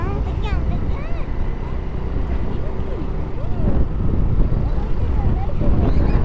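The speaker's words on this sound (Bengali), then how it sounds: "ওই যে জাহাজ যাচ্ছে তিতি" A ship passes on the river at Gadiara, a low, steady rumble under buffeting wind noise that swells slightly toward the end, with faint chirps scattered above.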